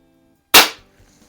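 A Crosman SSP-250 .177 CO2 target pistol, newly repaired, fires one sharp, close crack that ends abruptly, with near silence before and after.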